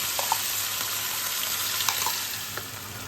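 A paste of ground ginger, garlic, onion and chilli hits hot oil with a loud, steady sizzle and a few faint clicks of a utensil, close and uninterrupted.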